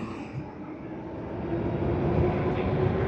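Magicycle Ocelot 52V dual-sensor e-bike motor under throttle alone, a steady low hum with road and wind rumble that swells gradually louder over a few seconds, with no talking.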